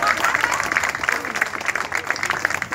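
Audience applause at the Sonsonate 2020 festival proclamation, a public civic event in El Salvador, with steady clapping from a crowd that stays fairly even and close for a few seconds, with a hint of voice mixed in.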